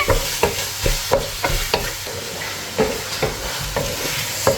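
Four tomatoes softening in a pan for a quick biryani, with regular spoon stirs and scrapes knocking rhythmically over a low, steady sizzle, close and fairly loud.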